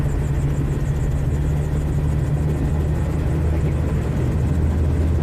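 Gyroplane engine and rotor in a steady vertical descent during a training joyride, a loud continuous low rumble and drone with constant wind noise throughout, no talking.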